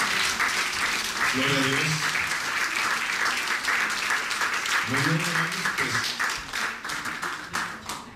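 A church congregation applauds in steady, dense clapping that runs through the whole stretch, with a preacher speaking over it at two points and the applause fading slightly at the end.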